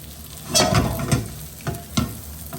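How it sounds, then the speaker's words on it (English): Potato, pea and egg tortilla mixture sizzling and being gently stirred in a hot pan, with a steady low fry and a few louder scraping bursts, close and without voices. "Put our peas, potato and egg mixture. And just nice and gently kind of maneuver that around the pan a little bit."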